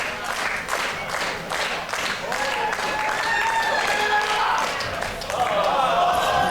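A wrestling match crowd roars and cheers steadily throughout, with scattered claps and thuds rising beneath, and the noise swells louder toward the end.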